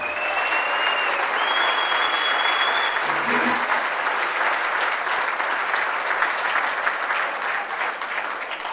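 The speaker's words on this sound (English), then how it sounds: "please free your hands to give a round of applause to the best man and brother-in-law of the groom, Joseph Curley" Wedding reception guests at Pen Ryn Mansion applauding the best man, the groom's brother-in-law, in a steady, full round of many hands clapping throughout, with faint voices and a brief tone mixed in early.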